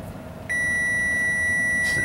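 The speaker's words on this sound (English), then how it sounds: "This is a chime test," A steady electronic chime tone from a 2012 Mazda 3 i Touring instrument cluster in gauge test mode starts abruptly and holds as a clear, loud sustained beep over a faint background hum.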